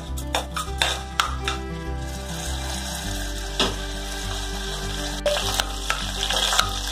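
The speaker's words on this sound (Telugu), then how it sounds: "ఆయిల్ వేడైన తర్వాత ఆవాలు పచ్చిమిర్చి రెండు వేసుకొని కొద్దిసేపు ఫ్రై చేసుకోవాలి" Mustard seeds and green chillies fry in hot oil for broken wheat upma, a close sizzling hiss with sharp popping bursts scattered through it and a low steady hum underneath, with no talk.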